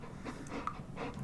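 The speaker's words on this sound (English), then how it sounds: "That heavy breathing is not me, that is actually my dog being a pain in the ass" A dog pants heavily in quick, steady rhythm, close and fairly quiet, with breathy bursts repeating throughout and no voices.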